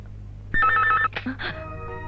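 A telephone rings in a home, one short electronic trill burst followed by a softer chirp, close and loud against a quiet room with faint low hum.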